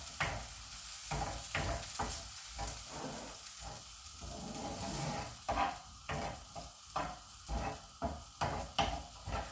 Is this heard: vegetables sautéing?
yes